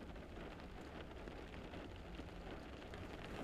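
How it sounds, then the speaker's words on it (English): Rain falls in a steady, even hiss that stays constant throughout, soft and distant with no voices or other distinct sounds. "See if you can just hear the rain."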